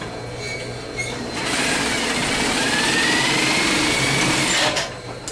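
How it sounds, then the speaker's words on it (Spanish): A sewing machine stitches the side seams of a bikini bottom at one centimeter, its motor whirring steadily and loudly close by, rising in speed after a short start and stopping near the end. "vamos a coser los costados a un centímetro"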